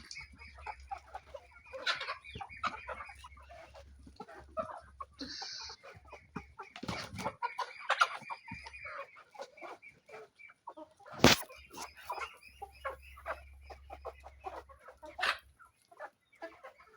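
Free-range village chickens cluck on and off throughout at moderate distance, with a couple of louder squawks standing out; no one speaks.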